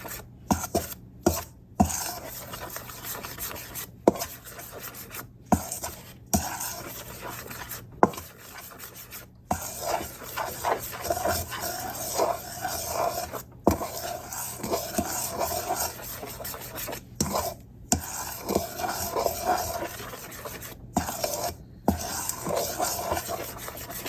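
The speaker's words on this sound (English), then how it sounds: "And then stir it all around." Johnny cake batter is stirred in a bowl, a steady rubbing, scraping rasp repeating in close strokes, broken by brief pauses, with no talking.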